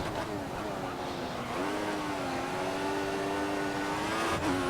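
A Formula 1 car engine in the F1 2014 racing game, Japanese Grand Prix, holds a steady high-pitched whine with gently shifting pitch as the throttle is feathered, continuous and close, with talk over it.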